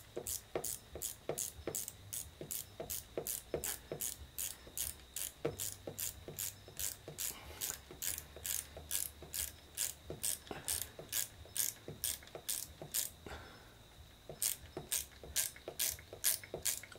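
A 10 mm ratcheting spanner tightens a bolt on a Ducati Monster S4 during starter motor work. Rapid, evenly spaced clicks come from close by in quiet, steady runs, with one brief pause near the end.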